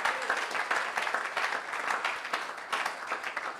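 A church congregation at a Sunday service claps steadily in sustained applause, a dense patter of many hands at moderate volume, with a few voices faintly mixed in.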